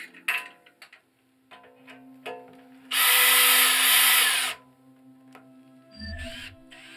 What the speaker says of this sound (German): Die Langschrauben werden hier eingesetzt.